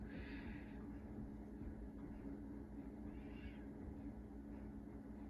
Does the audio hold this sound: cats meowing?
yes